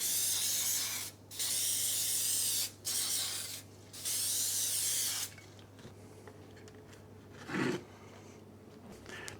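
Olive oil spray misted over raw chicken wings in a kitchen: several long hissing bursts in a row with short gaps, loud and close, then quieter rustling and a brief faint hiss afterward.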